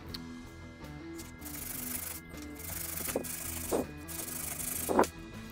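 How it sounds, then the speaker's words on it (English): Soft, steady rubbing of fine 240-grit sandpaper lightly over a copper-clad circuit board, with a few louder scraping strokes toward the end, close and fairly quiet. "very fine sandpaper, like 240 grit. So I just sand it."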